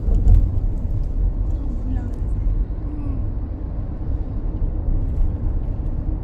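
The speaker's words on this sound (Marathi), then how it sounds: "फुल ट्रॅफिक जाम आहे." Heavy trucks sit jammed on National Highway 19 near a bridge, a loud, constant low rumble of engines and traffic with a voice talking over it.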